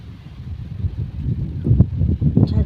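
Strong wind gusts outdoors during a light drizzle, a low buffeting rumble on the microphone that swells louder toward the end, with no talking.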